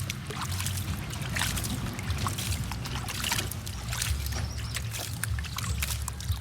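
Water pours and trickles steadily for several seconds, a continuous splashing and sloshing over a low background rumble.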